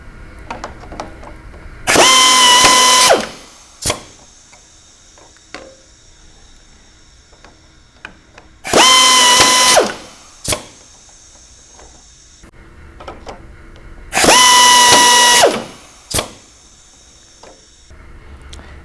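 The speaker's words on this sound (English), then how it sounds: "The first are the drilling heads, which are on each side of the louver" Drilling heads on a B&B shutter manufacturing machine working both sides of a wooden louver: three loud whirring bursts of about a second and a half, evenly spaced, each followed by sharp mechanical clunks over a quiet workshop hum.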